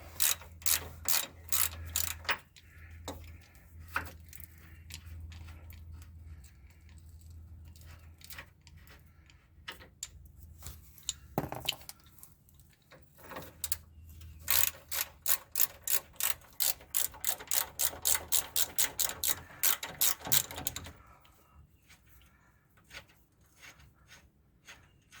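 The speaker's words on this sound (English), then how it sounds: "we'll just go use a socket wrench and take them the rest of the way out" A socket wrench ratchets out the sway bar bushing bolts on a full-size Jeep Grand Wagoneer, sharp close clicking in irregular bursts, then a long steady run of rapid clicks near the end.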